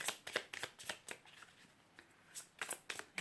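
A deck of playing cards being cut and riffled during a tarot-style reading, a quick series of crisp, close flicking snaps in two bursts with a short pause between, no talking.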